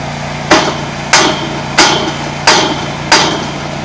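Five heavy hammer blows land at an even, unhurried pace, each a sharp crack that fades quickly, close by with no voices.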